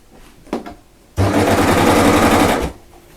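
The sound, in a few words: sewing machine stitching a strap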